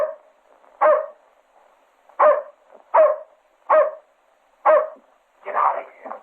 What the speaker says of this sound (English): But you can't let him bark.